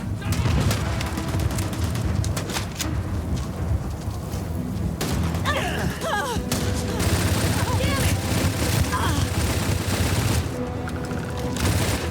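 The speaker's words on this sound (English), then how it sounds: "Just shoot everything!" Sustained gunfire in a combat encounter in the space game Starfield, with a dense crackle of rapid shots and bursts over a rumbling, loud mix. Shouting voices and chatter run through it.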